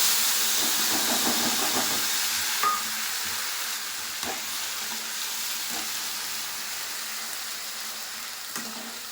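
Sugar and a bay leaf fry in hot oil in a wok, giving a loud, continuous sizzle and hiss with a few sharp clicks of stirring scattered through it.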